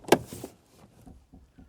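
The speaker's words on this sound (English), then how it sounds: "step 1 is to open the door" A Ford Mondeo Mk3 car door unlatches with a sharp click and clunk, followed by a few faint mechanical rattles and soft knocks in a quiet space.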